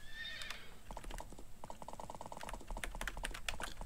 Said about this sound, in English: you have mounted a horse. A horse doubles your speed when moving outdoors